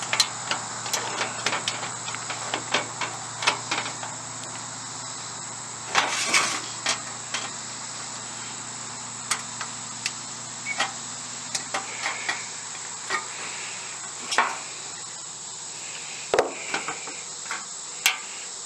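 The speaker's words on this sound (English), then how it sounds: "I'm going to just use these straight up aviation snips" Aviation snips cutting the end of a metal roof cap, a series of sharp, faint metallic snips and clicks at irregular intervals over quiet background.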